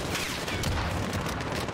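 Rapid AK rifle fire in Call of Duty Modern Warfare, a dense, steady run of shots that sounds loud and continuous through the whole stretch.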